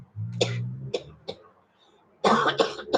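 A person with emphysema coughs several times: a few single coughs, a pause, then a harsh burst of rapid coughing close by.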